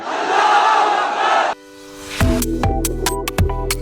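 A large rally crowd roars a takbir slogan in unison, a loud dense mass of voices from many people, cut off abruptly and followed by an unrelated musical jingle.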